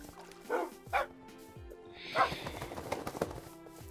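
A dog in Minecraft whimpers and yips, short high whines and soft barks repeating irregularly at moderate volume, with faint game ambience and no talk over them.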